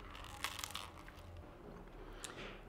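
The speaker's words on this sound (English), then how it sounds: "I eat my sandwich." A sandwich being bitten and chewed, a few soft crunchy bites near the start and another near the end, quiet and close.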